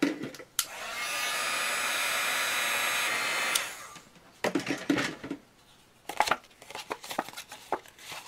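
A craft heat tool drying paint on cardstock blows a loud, steady whir for about three seconds, then stops, followed by scattered rustles and handling clicks of the paper.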